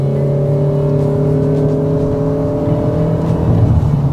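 A Toyota Innova Zenix accelerates with a strong, even engine whir and rising tonal hum, loud and close from inside the cabin. It builds slightly toward the end with no talking.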